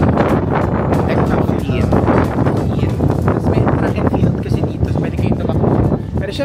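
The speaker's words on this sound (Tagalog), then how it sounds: "Mahangin pa sa labas." Strong wind buffets the microphone out on the open deck of the Royal Caribbean cruise ship Anthem of the Seas, a loud, steady roar with gusty surges running throughout, with voices heard faintly beneath it.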